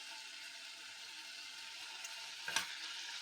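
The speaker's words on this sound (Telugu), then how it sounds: "ఈ ముక్కలు అయితే కొంచెం కారం, ఉప్పు అన్నీ పట్టేటట్టు ఒక 2-3 నిమిషాలు ఫ్రై చేసుకోవాలి" Pieces of food coated with chili powder and salt fry in a pan, a quiet steady sizzle with a brief stirring clatter near the end and no talk.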